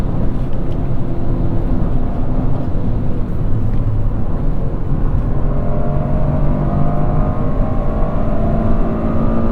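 A Toyota GR Corolla engine roars loudly under heavy throttle, a dense sustained rumble with pitch climbing toward redline around 7000 rpm, heard from inside the car.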